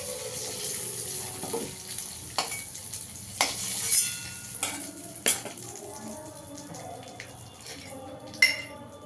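Nigella seeds tempering in hot oil in a pan for a Bengali fish curry with potato and brinjal, giving a crackling sizzle broken by repeated metal spoon clinks and scrapes, fairly close.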